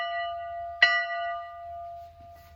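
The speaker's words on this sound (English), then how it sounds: "I'll ring the bell." A single bell is struck once in a school lesson, giving a bright clang that rings on with a steady, slowly fading tone over a faint low hum.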